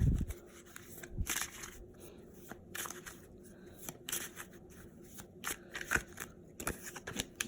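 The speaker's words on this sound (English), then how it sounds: "Sometimes the cards jump out, sometimes they slide into my hand as I'm shuffling." Tarot cards are shuffled by hand in quick, uneven bursts of papery riffling and sliding, quiet and close, with short pauses between runs and no talking.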